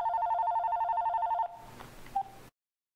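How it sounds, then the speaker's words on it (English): A telephone rings for an incoming call, an electronic warbling ring repeating rapidly for about a second and a half, then stopping as the line picks up with a short tone and hiss before silence. "We got a phone call."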